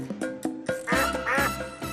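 Several ducks quack in quick succession, loud and close, a burst of nasal calls growing busier toward the end, at a campground.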